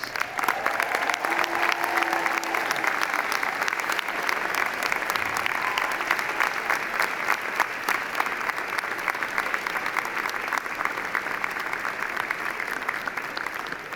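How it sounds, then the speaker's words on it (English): Sustained applause from a large crowd at a university convocation ceremony, loud and steady clapping throughout with no pauses. "Let's give them a huge round of applause"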